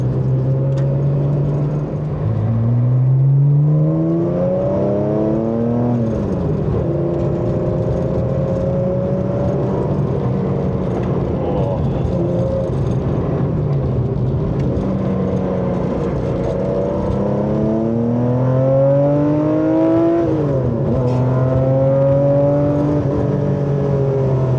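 A Singer Classic car's engine revs and accelerates through repeated rising pulls and gear changes, loud and close from inside the cabin, a continuous throaty drone with climbing pitch sweeps.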